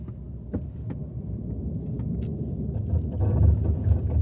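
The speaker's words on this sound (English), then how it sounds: "that's braking on the hillside, and I'm not really sliding, so that's good" Truck braking slowly down a snowy mountain hillside, a steady low engine and tire rumble with crunching snow, swelling louder toward the end.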